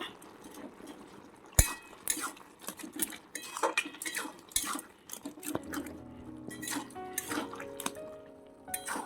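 A utensil clatters and scrapes against a cooking pot while a taro and pumpkin curry with a hilsa fish head is stirred, giving irregular close metallic clinks with some wet sloshing.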